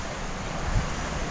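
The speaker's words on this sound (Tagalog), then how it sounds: "Sa lakas ng hangin" Strong typhoon wind gusting outdoors where someone cooks under an umbrella, a constant roaring rush buffeting the microphone with no speech.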